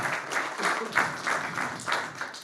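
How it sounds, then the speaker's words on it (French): A business-leaders' event audience in Bordeaux gives moderate applause, clapping in uneven surging bursts at close range. "Ça s'applaudit et félicitations"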